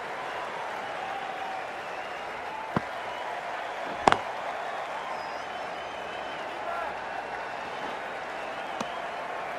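A stadium crowd at an RCB vs DC cricket match in a video game, with steady, broad crowd noise and applause and a few sharp knocks, under a commentator's voice.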